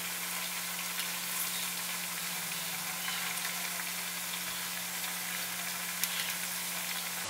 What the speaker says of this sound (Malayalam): ഇനി ഇത് തിരിച്ച് മറിച്ചൊക്കെ ഇട്ട് കൊടുത്തിട്ട് നല്ലതുപോലെ ഒന്ന് ഫ്രൈ ആക്കി എടുക്കുക